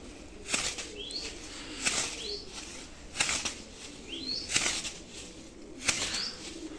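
Pigeons at a large outdoor livestock and poultry market in Mszczonów, Poland, flapping their wings in repeated bursts of clattering wingbeats, about one every second or so, over a low ambient background with no talking.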